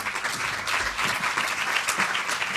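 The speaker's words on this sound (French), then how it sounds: "Béatrice, on peut l'applaudir." Audience applause at the Girafes Awards 2015 ceremony, a full, even clapping from a sizable crowd heard close and loud for a couple of seconds.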